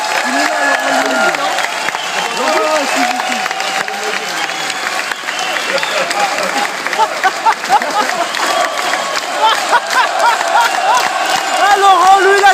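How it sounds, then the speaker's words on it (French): Sustained applause from a crowd at the Bal des quenelles 2013 event, steady dense clapping throughout with a voice speaking over it at times. "vous pouvez l'applaudir."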